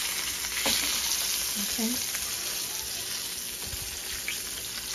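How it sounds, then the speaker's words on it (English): A sea bass fillet sizzles steadily in a frying pan as it is flipped, with a constant loud frying hiss, a few clinks and scrapes of the utensil, and a brief spoken word. "So we're going to carefully flip this fish over."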